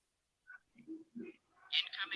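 A phone notification chimes once, a short bright electronic tone near the end, preceded by a few brief softer blips and someone talking nearby.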